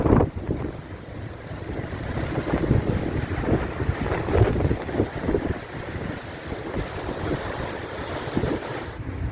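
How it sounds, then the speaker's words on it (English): Gale-force wind at the Torremolinos seafront, loud gusty roaring and heavy buffeting against the microphone, surging in uneven bursts throughout with waves mixed in and no talk. "it's blowing a gale down by the seafront"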